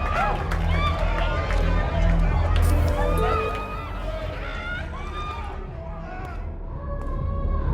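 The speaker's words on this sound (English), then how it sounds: "a mosh pit opens in the smoky dark in front of the stage" Crowd noise from a mosh pit in front of a stage at a smoky, dark concert in Life is Strange: Double Exposure, a dense, steady hubbub of bodies and voices with tonal music-like streaks running throughout.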